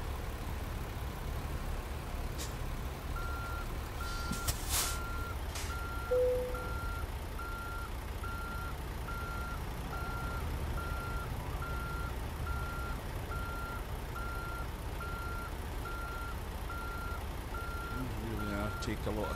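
American truck reversing in American Truck Simulator, its backup alarm beeping at an even, steady rhythm over a low engine idle, with a few clunks early on and someone talking intermittently over it.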